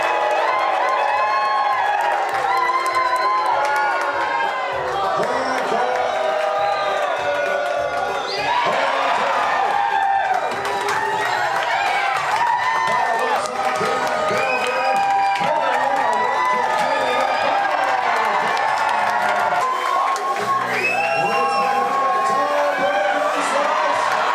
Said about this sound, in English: Cheer your man on or heckle him back